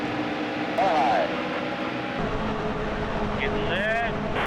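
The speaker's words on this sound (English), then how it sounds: "They used the same exact car sounds from Heat 2002." Race car engines roar in the NASCAR Heat Evolution video game, a steady layered drone with rising and falling whines as cars pass, running under a commentator's voice throughout.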